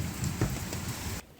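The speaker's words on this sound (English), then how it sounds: "We need the rain." Rain falls steadily outdoors, a soft even hiss with a few heavier patters, cutting off abruptly near the end.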